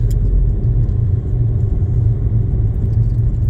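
A manual car's engine rumbles steadily while driving as the gears are shifted into third, a low continuous drone with faint rattles and no talking.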